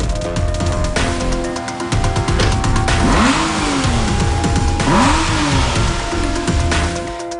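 An Aston Martin V12 Vantage S revs hard, its big V12 engine rising and dropping through repeated loud sweeps, close and continuous, with rasping exhaust crackle between the surges.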